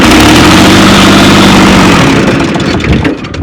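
A diesel tractor engine runs loud and close with a steady low throbbing idle that roughens and dips near the end, with no voices.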